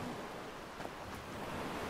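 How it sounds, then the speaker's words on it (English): Continuous broadband surf of ocean waves washing on a shore in the video game Skyrim, a steady soft wash with a faint rise near the middle and no talking. "And the waves. I can hear the waves."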